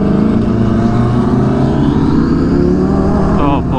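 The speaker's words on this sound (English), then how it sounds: "you can hear those turbos" A turbocharged Lamborghini with a wild aftermarket exhaust revs loudly at a supercar meet, a dense close roar with rising harmonics and turbo whine toward the end, crowd noise mixed in.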